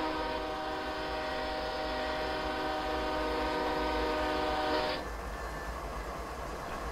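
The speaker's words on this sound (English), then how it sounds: "There it is! There's the train!" A freight train in a Canadian mountain pass train simulator game sounds a loud sustained horn chord over the rolling rumble of rail cars, then the horn cuts off and the steady wheel roar continues.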